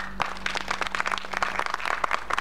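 Applause from an audience at a short film screening event, a dense run of clapping that holds steady for a couple of seconds with a faint low hum beneath.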